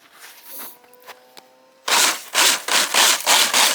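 A 3D printed RC snowmobile runs over slushy spring snow on a mountain, its motor giving repeated loud bursts of whirring and slush-spraying hiss after a quieter start with faint ticks and hum.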